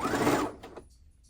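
Sewing machine double stitching a quilt, a short burst of fast mechanical whirring stitches that stops abruptly, followed by faint clicking of the mechanism.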